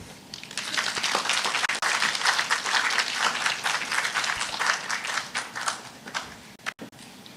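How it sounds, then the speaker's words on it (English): Audience at a youth agricultural symposium gives a round of applause to a speaker, sustained crowd clapping that swells, holds steady for several seconds, then tapers off with a few last claps. "Let's give Mr. Ramnath another round of applause."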